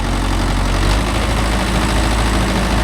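A Mahindra Yuvo Tech Plus 585 DI 4WD tractor with a five-tine cultivator attached runs its diesel engine at a steady, loud idle, a deep continuous rumble with throbbing low-end vibration and no talking.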